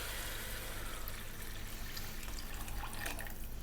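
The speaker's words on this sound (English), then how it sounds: "We're going to put enough water in to cover it." Water from a big jug pours into a cooking pot to cover the food, a steady close splashing gush that runs unbroken with no speech.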